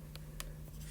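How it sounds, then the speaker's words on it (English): Handwritten notes during a geometry lesson on squares, with brief scratchy pen strokes, two or three quick marks against a steady low hum and no speech. "So I'm going to write that because that is important."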